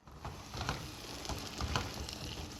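Ground spice paste frying and being stirred in a pan of oil for a fenugreek-leaf sabzi, giving a steady close sizzle with soft spattering and scraping patters running throughout.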